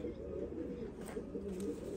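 Imam Din pigeons give a continuous low cooing, a close, steady murmur lasting a couple of seconds with no voices.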